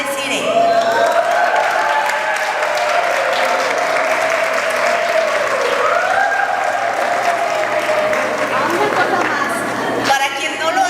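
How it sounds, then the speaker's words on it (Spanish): Loud, sustained applause from an audience of women at a church class, dense and steady throughout, with cheering and voices mixed into the crowd noise. "Entonces vamos a recibir con un fuerte aplauso a Desiree."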